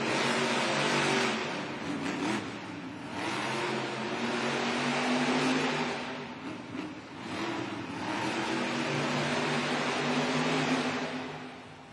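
Monster trucks race at a Monster Jam arena event in Newark, New Jersey, their loud engines roaring in long surging swells that dip briefly before building again.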